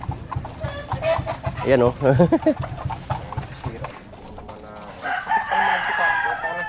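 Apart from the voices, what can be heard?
pet chickens clucking and rooster crowing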